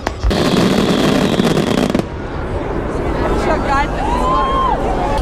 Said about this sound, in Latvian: Jau ir salūts.